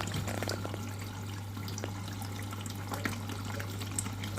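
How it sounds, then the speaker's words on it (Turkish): Household washing machine on its rinse cycle drawing water in through the softener compartment, a steady rushing trickle under a constant low hum, close and continuous with no talking. "Aslında şu yumuşatıcı gözünden alıyor suyu durulama olduğu için."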